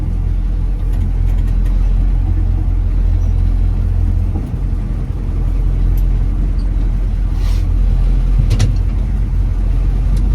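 A retired Army Chevrolet CUCV M1008 military truck backs out and drives off. Its engine gives a steady, loud, low rumble with no break.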